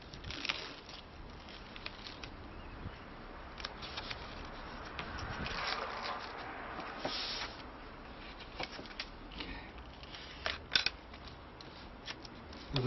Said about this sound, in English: Now we're going to take double-sided carpet tape .